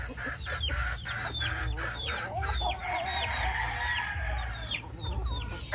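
Chickens in a small backyard coop behind a house cluck repeatedly and close by, with a rooster crowing among the busy, overlapping calls.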